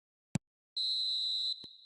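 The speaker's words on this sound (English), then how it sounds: "And there goes the final whistle." A long, steady referee's final whistle ends a match in the eFootball video game, clear and fairly loud, set between a short thump before it and a faint tap after.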